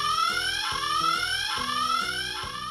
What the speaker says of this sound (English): The alarm takes two batteries and it's motion sensored, and it sounds pretty cool when we set it off.